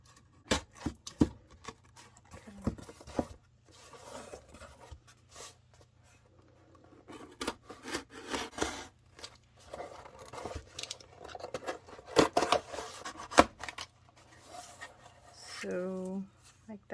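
Scissors cut the top flap off a journal cover with scattered close snips and rasping paper scrapes, irregular and fairly quiet, with soft handling noises between cuts.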